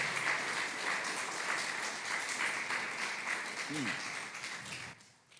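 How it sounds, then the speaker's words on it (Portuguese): A church congregation claps together during a sermon, the applause quiet and steady with a brief voice breaking through midway, then thinning out near the end. "Dá uma salva de palmas para Jesus"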